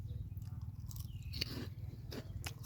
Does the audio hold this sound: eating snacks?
yes